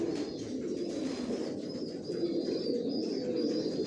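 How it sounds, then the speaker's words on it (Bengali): Pigeons of the Johnson line coo softly in a loft, a low continuous murmur of calls with faint chirps, no voices over it. "কোয়ালিটি সম্পন্ন কবুতর পালি"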